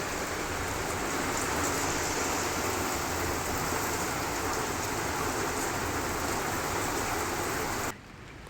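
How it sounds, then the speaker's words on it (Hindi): Heavy, steady rain pours down with a dense, constant hiss of drops, loud and close, before cutting off abruptly near the end. "लग गई भाई झमाझम वाली बारिश फिर से"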